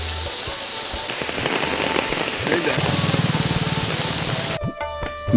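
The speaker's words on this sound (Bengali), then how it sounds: "ওই দেখো সাদা বৃষ্টি আসছে কীভাবে।" Rain sweeps in over a village, a dense, steady patter on surfaces with gusty wind, while voices talk over it and a brief rattling knock cuts in near the end.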